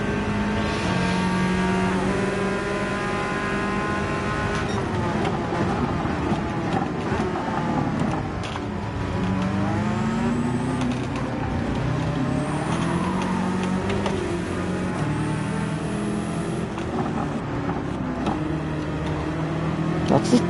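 Ferrari 296 in a racing video game at Fuji, its engine note droning and shifting pitch as a rival car runs close behind, a continuous mix of exhaust tones and passing vehicles with a voice speaking over it.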